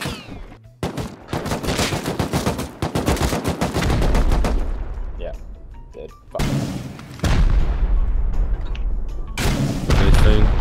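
Rapid bursts of gunfire from the video game Rust, loud and close, with dense automatic volleys, single heavy booming shots and short pauses in between.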